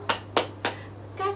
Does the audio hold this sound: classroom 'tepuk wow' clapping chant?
yes